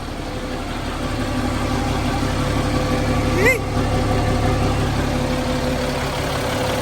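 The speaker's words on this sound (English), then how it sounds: "What's better than one running Army truck? Two running Army trucks." Two 5-ton army trucks idle together with a steady low engine rumble and vibration throughout, a brief louder burst midway, with people talking faintly nearby.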